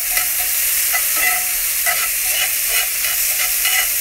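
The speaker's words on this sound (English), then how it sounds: "I like my shrimp cooked quickly and seared. So I'm just going to stir this around a little bit." Shrimp searing in a hot pan while being stirred, a bright constant sizzle with soft rhythmic scraping strokes repeating every second or so, close and fairly loud.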